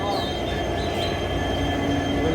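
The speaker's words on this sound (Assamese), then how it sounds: "ট্ৰেইন ষ্টাৰ্ট দি আছে।" A legendary coal-fired train starts up at Mariani Junction, Jorhat, Assam, giving a steady loud rumbling drone with a faint high squeal, and some talk mixed in.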